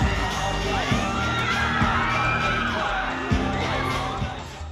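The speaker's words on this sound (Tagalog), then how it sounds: "Hindi magkamayaw sa paghiyaw ang mga manonood sa pagsuporta sa kanilang mga natitipuhang kandidato" A large audience at the Ginoong Filipinas Nueva Ecija 2015 pageant shouts, whoops and cheers for the candidates, a continuous crowd roar with high shrieking voices and occasional thumps.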